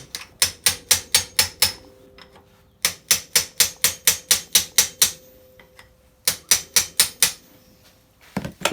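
A spanner wrench works the spring collar on a Honda RM125 motorcycle shock, giving rapid bursts of loud, sharp metallic clicks in quick even runs, separated by short pauses.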